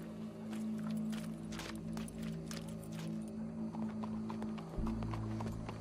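Horse hooves clip-clop in a steady walking rhythm over a low constant hum, moderately close, with no talking.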